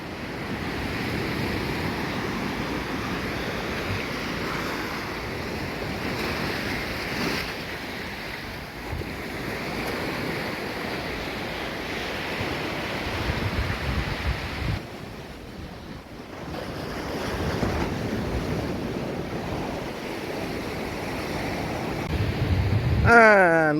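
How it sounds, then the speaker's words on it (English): Waves washing on a beach with steady wind buffeting the microphone, a continuous rolling surf wash that swells near the end, heard during a barefoot beach walk. "welcome to Pattenham Beach"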